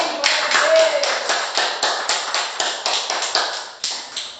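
A church congregation at a worship service claps together in steady, rhythmic beats, loud and close, with a continuous wash of hand claps repeating about every third of a second.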